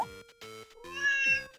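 A cat in the Grand Theft Auto V video game meows several times in a row, clear, close and loud, each call drawn out with a rising and falling tone, with no talking.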